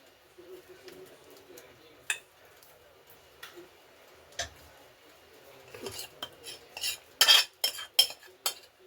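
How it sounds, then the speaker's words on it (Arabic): Utensil scraping and clinking against a bowl while a cauliflower gratin mixture with meat and vegetables is mixed, soft scrapes building to a burst of louder clinks near the end. "غنخلط هاد الشيء مزيان"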